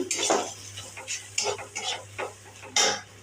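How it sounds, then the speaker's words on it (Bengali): A spoon stirs potatoes and browned fried onion with turmeric and salt in a pan, scraping in several distinct strokes over a steady background sizzle, close and fairly loud with no talking. "এবার নেড়ে নিচ্ছি।"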